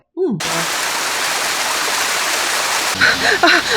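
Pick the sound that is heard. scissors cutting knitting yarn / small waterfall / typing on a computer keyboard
small waterfall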